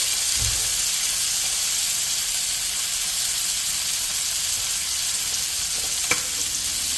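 Omaha Steaks burgers sizzle and crackle steadily on a hot cooking surface, a loud, even frying hiss broken by a low thump near the start and a sharp scrape or tap near the end.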